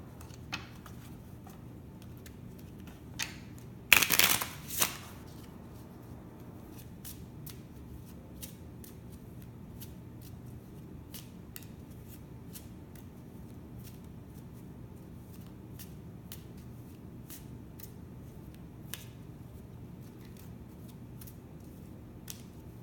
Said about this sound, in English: let's pull a card from the crystal deck